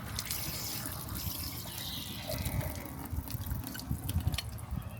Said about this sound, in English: So release the pressure valve first.